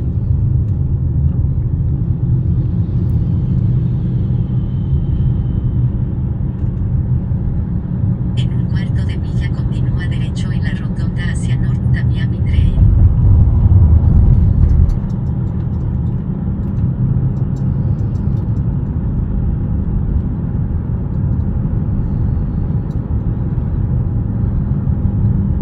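Steady low road rumble from inside a moving car driving toward coastal Florida apartments, continuous and fairly loud throughout, with a brief heavier swell midway and faint high rattles for a few seconds.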